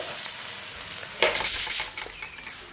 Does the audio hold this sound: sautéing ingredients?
yes